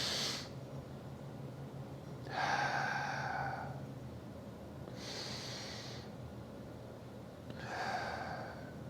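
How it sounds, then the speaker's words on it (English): Slow, exaggerated breaths of a box-breathing exercise: four separate airy inhales and exhales, each lasting about a second, spaced by quiet pauses, close and breathy with no talking. "Even if you just do like 2 rounds of box breathing"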